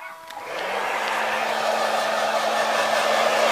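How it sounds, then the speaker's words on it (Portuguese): A hair dryer switches on with a click and settles into a loud, steady whirring blow of air close by. "Secador. Isso desfaz cabelos, já."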